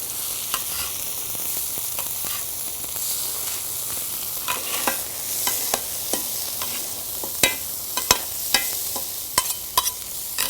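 Flatbreads fry in olive oil in a pan, a steady close sizzle broken by sharp clicks and taps of a utensil turning them, growing more frequent toward the end.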